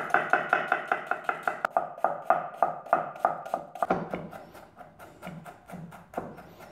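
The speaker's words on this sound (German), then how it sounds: "schneide ich mir schon mal die Zwiebel und den Knoblauch." A knife chops onion and garlic on a cutting board in quick, even strokes, a steady run of close, crisp taps that slows and loosens toward the end.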